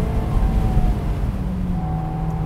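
A Mazda Roadster RS engine droning steadily while driving, a low continuous hum from the cabin with a faint tonal whine and no sharp revving.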